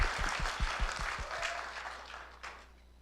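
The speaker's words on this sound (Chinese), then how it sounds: "帮他们拍拍手" Applause for a group at a Christmas party: a crowd claps in a dense burst that thins out and fades over a few seconds, fairly faint and distant.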